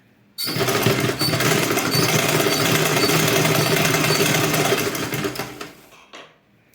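A sewing machine stitches a ruffle in one loud, steady motor whir with a rapid needle clatter, running for about five seconds before slowing and stopping.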